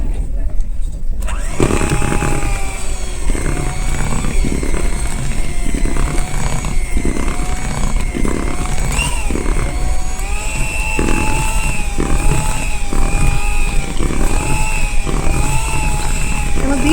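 An electric hand beater whirs steadily through brownie batter in a bowl, a loud continuous motor drone with rhythmic scraping pulses that runs almost without a break.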